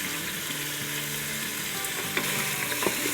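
Mutton sizzles steadily in an Instant Pot with garlic paste and green chilli paste, a dense crackling fry with a few sharper stirring knocks near the end, no talking.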